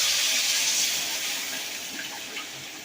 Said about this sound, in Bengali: এইবার আমি এই মাছের এই জলটা আমি এবার অল্প করে দিয়ে দেবো।